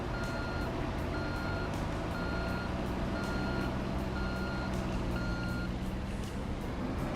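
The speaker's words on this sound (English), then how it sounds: "I wonder, can we take the big dump truck?" A big dump truck in Construction Simulator 2 reversing, with a regular, evenly spaced backup beep over a loud steady engine rumble, close and continuous.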